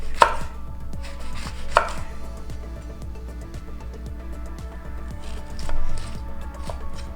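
Two sharp chopping cuts of a knife through an orange on a board, the first near the start and another shortly after, followed by quieter kitchen sounds.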